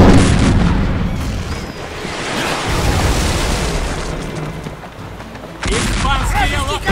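Cannon fire aboard a sailing ship in the Captain Blood video game: heavy booming blasts and rumbling explosions at the start and again near the end, with someone talking in Russian over the battle noise.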